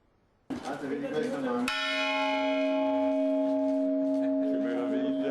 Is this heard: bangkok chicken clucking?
no